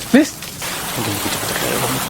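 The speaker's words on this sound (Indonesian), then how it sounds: "Hujan seketika turun saat mereka ada di jalan." Rain pouring down on a road, a steady dense hiss of drops that continues evenly throughout, loud and close, with a short voice heard briefly at the start.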